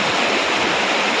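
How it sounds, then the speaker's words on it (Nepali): Spring water rushes over rocks at the source of the Hinkhuwa Khola stream, a steady, close, full-bodied splashing roar with no pauses throughout. "पल्लो ठुलो ढुङ्गाको कुना हुँदै पानीको मुहान चाहिँ यही हो।"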